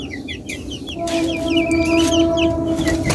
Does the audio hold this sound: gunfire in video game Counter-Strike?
no